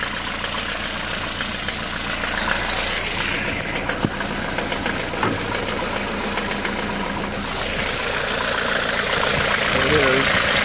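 A 1984 Mercedes-Benz 190d with a 2.2 diesel engine idles after a cold start, a steady mid-range clatter running throughout and growing slightly louder toward the end, with background noise over it.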